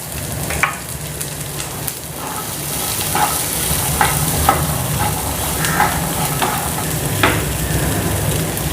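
Green peas with asafoetida frying in a pan, a steady close sizzle with repeated scraping clinks as they are stirred.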